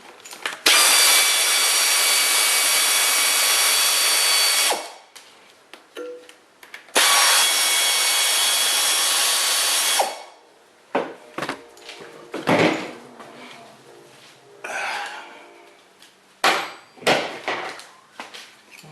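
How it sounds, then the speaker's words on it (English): Mechanic pulling the valve covers, rocker arms and push rods off a 1962 Studebaker 289 V8, with two long loud bursts of a power tool up front followed by scattered metallic clanks, taps and rattles of parts. "let's take off the valve covers and take out our rocker arms and push rods"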